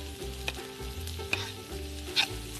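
Asparagus and softened onions frying in a pan, with a steady close sizzle broken by a few sharp scrapes and clinks as the food is stirred and pushed around.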